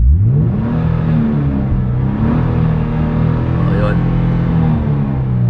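A 2010 Hyundai Genesis V6 coupe engine revs steadily up close, a continuous low throb with slight swells, while someone talks over it throughout.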